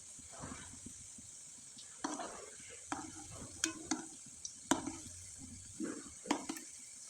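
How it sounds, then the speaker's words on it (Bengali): Rice-flour pitha frying in oil in a pan over low heat, a soft steady sizzle broken by louder crackles and stirring clatters every second or so, close by. "পিঠাগুলো আমি একটু সময় নিয়ে ভালোভাবে ভেজে নিলাম।"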